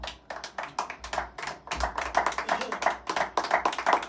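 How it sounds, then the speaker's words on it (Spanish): A church congregation claps together in rhythm during a sermon, a steady run of sharp, near hand claps in quick repeated bursts with a low hum underneath and no talking. "Dele palmas al Señor."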